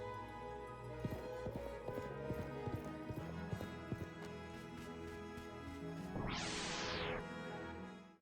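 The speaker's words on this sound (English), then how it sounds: "Hey, that's a horse." Steady clip-clop of horse hooves in the video game Live A Live, a quiet even trotting rhythm, followed near the end by a sweeping whinny-like game sound effect.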